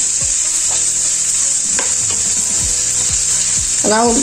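Spinach frying in a pan for aloo palak, a loud steady sizzle with repeated scraping stirs of the spatula and a brief clatter near the end.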